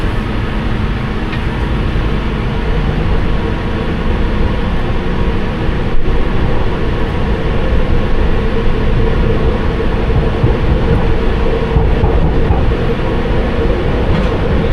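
London Underground Piccadilly Line train running between King's Cross St Pancras and Russell Square, heard from inside the rear cab: a steady, loud low rumble and rattle of wheels and motors with faint rail clicks.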